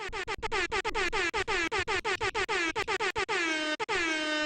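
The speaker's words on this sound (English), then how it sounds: "Maybe I'll get some actual air horns" Loud, blaring air horn blasts repeat in quick staccato bursts, then stretch into a longer held honk that trails off near the end.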